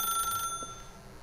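A ringing telephone in the video game The Stanley Parable gives a short, clear electronic ring that fades within about half a second, leaving quiet room tone.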